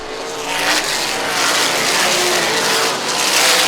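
Sprint car racing engines at the Little 500 roar in a loud, sustained drone that swells and fades as cars pass close by, with no voices over it.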